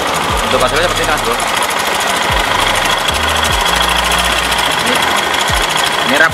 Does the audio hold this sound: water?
no